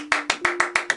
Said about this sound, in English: Give yourselves a big, big clap, everybody.